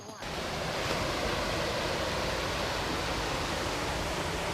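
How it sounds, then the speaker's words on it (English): Small waterfall along a hiking trail, a constant rushing wash of falling water, close and loud, holding steady for several seconds with no talk. "Very small waterfalls,"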